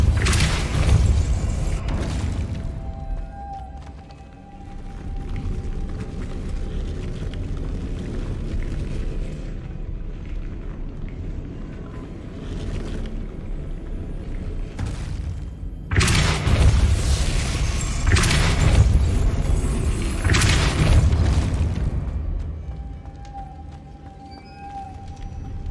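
Depulso spell casts from the Hogwarts Legacy video game, played on PC: deep booming whooshes with heavy low rumble, loud bursts near the start and again mid-clip, with quieter stretches of ambient drone in between.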